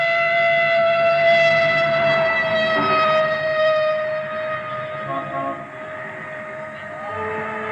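An ambulance siren wails steadily, its tones holding and then shifting, fairly loud and close, with no talking.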